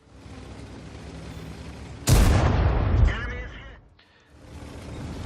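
A KV-5 tank cannon fires an APCR round in World of Tanks, one sudden loud boom followed by a rumbling, fading tail over steady engine noise and game sounds.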